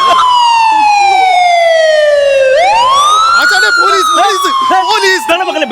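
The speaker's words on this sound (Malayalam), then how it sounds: "അത് പോലീസല്ല, അത് ആംബുലൻസ്." An ambulance siren wails loud and close. Its pitch sweeps down slowly, then swoops back up and falls again, with voices talking over the later part.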